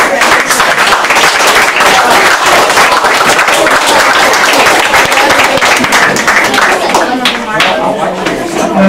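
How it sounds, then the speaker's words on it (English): An audience at an elementary school journalism presentation gives a loud, dense round of applause, continuous clapping from many hands with no pause. "Let's give a round of applause"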